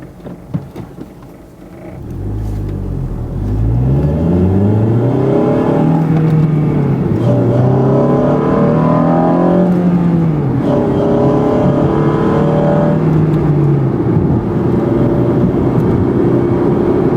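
A Honda Civic Si with an A'PEXi WS2 Noir exhaust revs up loudly through rising gears, its exhaust note climbing and dropping repeatedly in a sustained close acceleration.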